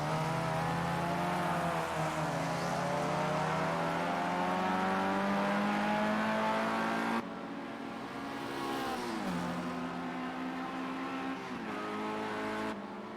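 Sim racing cars lap virtual Knockhill in an eSports racing game, engines whining loud and close as they climb and drop in pitch through gear changes, with a brief cut midway and no talk.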